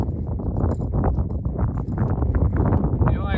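Horse hooves clip-clopping during a first session with a young horse, a rapid run of close, dull thuds over a steady outdoor rumble, with someone talking over them.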